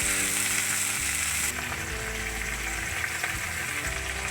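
Water spinach greens fry with onion in a pan, giving a close, continuous sizzling crackle with some stirring, and no voices.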